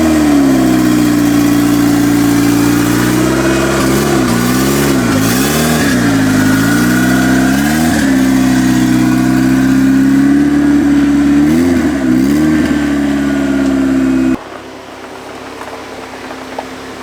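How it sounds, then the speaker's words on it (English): A Volkswagen Golf R pulling out: a loud, steady engine drone close by with a few rev swells rising and falling, then an abrupt drop to a quieter background near the end. "So let me pull out the car."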